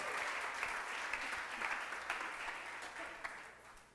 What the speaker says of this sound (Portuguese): Aplauda con fuerza.